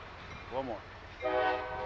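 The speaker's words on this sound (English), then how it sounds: "Right about now, he's going to honk that horn." Two short blasts of a train horn, a brief wavering one then a longer steady tone, heard at a distance with some echo.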